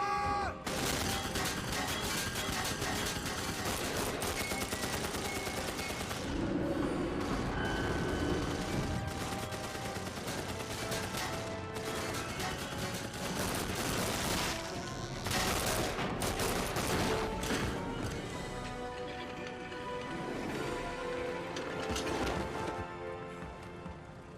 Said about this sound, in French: Il est là! Ouvrez le feu!